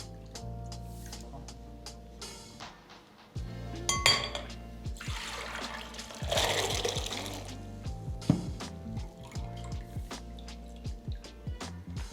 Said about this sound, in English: Now we're gonna use a strainer and get the peas.